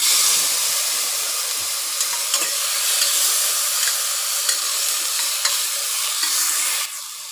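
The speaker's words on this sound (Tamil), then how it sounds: "ஆனியன் கொஞ்சம் வதங்கட்டும் ஆனியன் நல்லா வதங்கிடுச்சு" Onions sauté in a pan with garlic, tomato and drumstick for a lunchbox rice dish, giving a loud, even, continuous sizzle with a few faint stirring taps close by, ending in a slight drop in volume.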